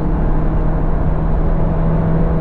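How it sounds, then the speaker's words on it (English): Audi Q2 compact SUV at full throttle, a steady loud engine drone with a constant low hum and no clear rise in pitch, heard from inside the cabin. "this is me full throttling"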